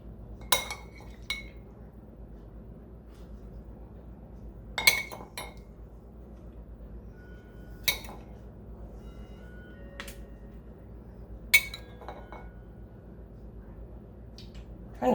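Shrimp going into a pan on a stovetop: a handful of sharp, scattered clinks and metallic taps, spaced several seconds apart over a soft, steady background hum.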